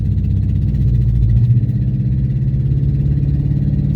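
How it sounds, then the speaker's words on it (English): A truck engine drones loudly from inside the cab while driving on the road to a junkyard, a low steady rumble with a slight rise and settle in pitch, close and continuous, with no talking. "my truck's pretty loud"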